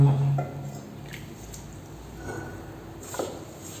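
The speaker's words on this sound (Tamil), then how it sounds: "இப்போ இதில் நம்ம கொஞ்சம் கொஞ்சமாக தண்ணி சேர்த்து பிசைஞ்சுக்கணும்." Seedai dough of rice flour, coconut and water kneaded by hand for Krishna Jayanthi, giving soft close squishing and faint wet presses after a brief low hum at the start.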